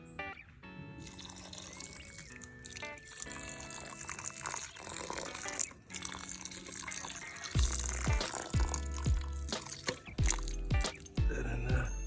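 Water poured onto soil in an avocado seed pot, trickling and splashing close by in several bursts over a background of other sounds.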